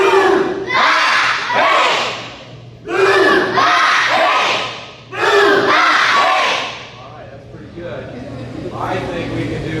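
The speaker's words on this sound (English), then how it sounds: "you are going to yell real loud" Kids at a church summer sports camp yell loudly together in three big bursts, each a roaring crowd shout followed by a brief lull, with fainter voices after the last.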